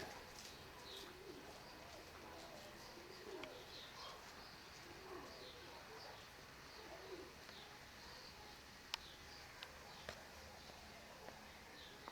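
Pigeons of the Mykolaiv breed coo softly and continuously from a loft in Konotop, with occasional brief chirps and wing flutters over a steady outdoor background hum.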